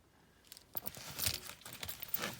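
Two Hyundai i20 remote car keys on a Hyundai keyring jangling: faint, irregular metallic clinks and rattles building over a couple of seconds, handled close by.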